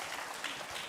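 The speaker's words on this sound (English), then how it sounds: "join me with a big round of applause" A crowd at a medical summit in Mumbai clapping together, a dense and fairly faint patter of applause with no voices.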